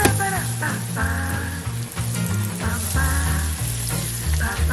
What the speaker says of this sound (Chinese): 加入奶油并小火融化